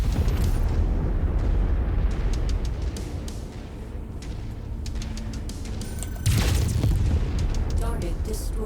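A destroyed target explodes in the mech combat video game Mechwarrior 5: Mercenaries, giving a loud, sustained rumbling boom that swells again into a fresh heavy blast near the end.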